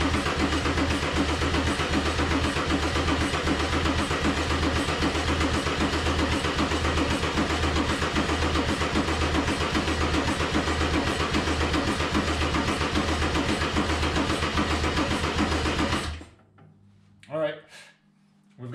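Mercedes OM606 diesel engine swapped into a 190E W201 being cranked on the starter, a loud steady rhythmic churning that runs for about sixteen seconds and then cuts off abruptly, followed by a few brief quieter knocks.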